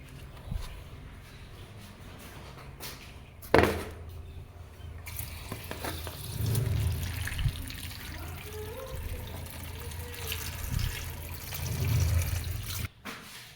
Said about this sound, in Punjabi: ਜਿਹੜੀਆਂ ਸਬਜ਼ੀਆਂ ਨੇ ਇਹਨਾਂ ਨੂੰ ਹੁਣ ਆਪਾਂ ਧੋ ਲੈਨੇ ਆ